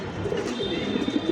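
A pigeon coos at close range, giving soft, low, rolling calls repeated over a short stretch, heard alone without speech.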